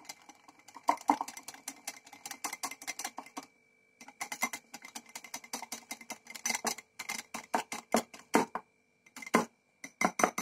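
A whisk beats gram flour batter with water for dhokla, a quick run of light clicking taps against a bowl, close and steady with a brief pause partway through.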